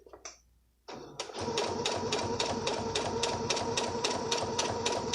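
A sewing machine stitches a centered zipper, starting after a brief pause and then running in a fast, even, rhythmic clatter of needle strokes up close.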